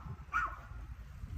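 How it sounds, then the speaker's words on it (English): A single short dog bark sounds outdoors beside a Gothic Revival building, faint and at some distance over steady low background rumble. "Lovely dogs making loads of sounds"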